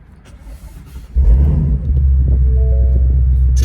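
Deep, steady engine rumble from a Ford Mustang Shelby GT350R with its exhaust valves closed, quiet at first, then swelling loud and holding a constant low throb near the microphone.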